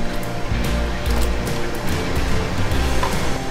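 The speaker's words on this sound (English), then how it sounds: "Just let it boil." Salted water at a rolling boil in a pot with okra, a steady broadband bubbling and rumbling wash that stays loud and continuous throughout with no voices.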